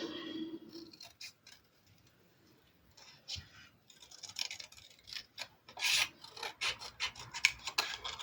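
Paper card for an Easter patchwork card is cut with scissors or a blade, heard as close, irregular snips and rasping strokes that start quietly and grow busier and louder toward the end.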